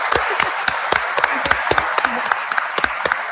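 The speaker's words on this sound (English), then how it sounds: "Let's have a round of applause for Beatrice" An audience at a disclosure forum watch party claps in applause, a steady stream of close, sharp hand claps from a modest crowd, sustained evenly throughout.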